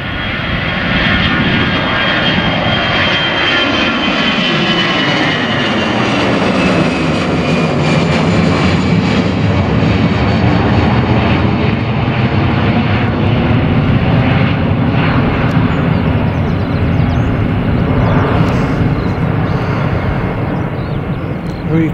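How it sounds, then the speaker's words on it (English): A Ryanair jet airliner taking off on a breezy day at Bristol Airport, its engines roaring loud and close, the pitch sweeping as the roar builds and holds steady. "Ryanair 782 is for south. that was a quick takeoff."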